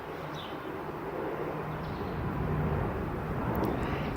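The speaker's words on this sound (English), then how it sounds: "Right now, I hear a plane because we are very close to the airport" A plane flies near an airport over a residential neighborhood, a distant low rumble that builds gradually under faint bird calls.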